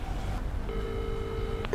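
A telephone being dialed to call a brother in Dubai: a steady electronic dialing tone holds for about a second, then cuts off with a short click, over a low background rumble.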